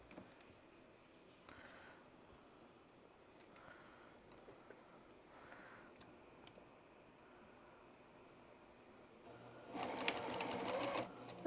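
A sewing machine backstitches a Sand Dollar quilt block in one loud, close burst of stitching near the end, after a long stretch of quiet room tone.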